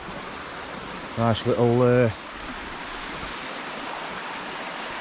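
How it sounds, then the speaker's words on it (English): A Lake District river runs over rocks in small waterfalls and cascades, a steady broad rush close by, with someone briefly speaking over it. "Lake District river coming down there. Little falls and cascades of it, rocks and that"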